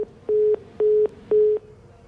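A telephone busy tone after a dropped call: three steady, evenly spaced beeps with short gaps, clear and alone.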